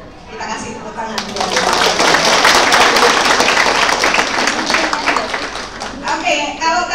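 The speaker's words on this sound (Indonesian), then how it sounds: "Kita kasih tepuk tangan." Audience applause with hand clapping at a women's poetry theater event in a university library in Yogyakarta, honoring a sign language interpreter; dense clapping swells quickly, stays full and steady, then thins toward the end, with children's voices and talk mixed in.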